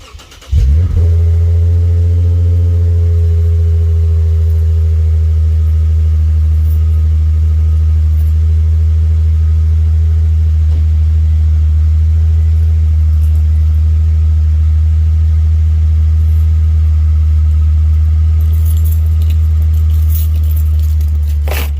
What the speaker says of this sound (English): So I'm going to turn the car on and check for exhaust leaks